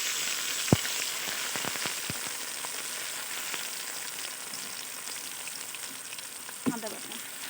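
Whole garlic cloves and garlic paste fry in hot oil for an olive pickle, giving a steady close sizzle throughout with a few sharp spoon or utensil clicks.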